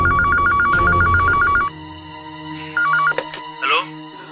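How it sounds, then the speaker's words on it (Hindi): A telephone rings loudly in a repeated electronic trill for well over a second, stops, then gives one shorter burst, with a few clicks and faint background voices in a dramatised Indian crime scene. "ये लीजिए, घंटी बज रही है।"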